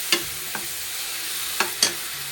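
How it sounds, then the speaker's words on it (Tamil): Fish curry masala sautéing in oil for a tomato fish curry, with a low steady sizzle and a few sharp scraping strokes of a spoon against the pan, no voices. "இந்த பச்சை வாசனை போட வரைக்கும் இதை வதக்கிக்கலாம்"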